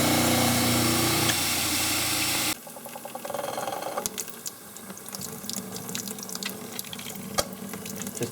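Tap water runs loudly and steadily for a couple of seconds while a stone dental model is washed off, then cuts out, leaving quieter handling clatter and light knocks.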